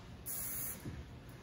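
A can of KMS temporary hair color spray gives one short hissing burst of about half a second, close and fairly loud against a quiet room.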